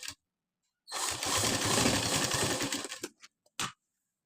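Sewing machine running a long stitch along a blouse hem margin: a steady, fairly loud mechanical whir for about two seconds, tapering off, followed by a couple of short, sharp bursts with no talking.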